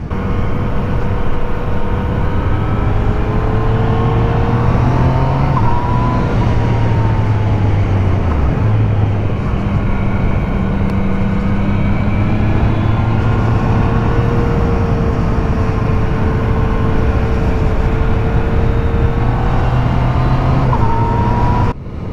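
A Yamaha MT-09 motorcycle rides with its quick shifter, a steady loud engine drone that rises and dips through gear changes, with wind noise throughout.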